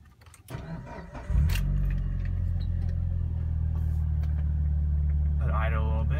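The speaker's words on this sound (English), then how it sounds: "All right, so I'm gonna start up the car." A 2004 Mitsubishi Lancer Evolution VIII SSL turns over on a cold start and catches into a loud, steady idle. Brief talk and key or clutch handling come first, and a voice speaks briefly near the end.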